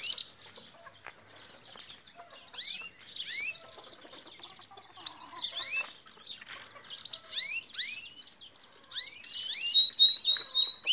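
Belgian and Timbrado canaries sing nearby in bursts of bright, rapid chirps, sweeping trills and whistled notes, overlapping and growing louder toward the end, with no talking.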